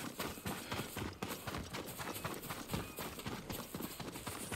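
Horse hooves in the video game Ghost of Tsushima clop in a steady, brisk rhythm, close and fairly quiet, with faint gear jostling between beats.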